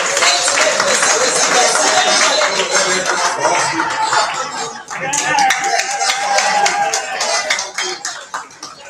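A seminar audience claps for a speaker with sustained applause that fills the room, dense and continuous, with scattered laughter mixed in.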